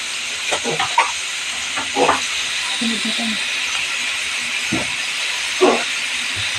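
Ginisang gulay, a Filipino vegetable sauté, hisses steadily in a pan while a spoon stirs now and then. Someone talks intermittently over the sizzle.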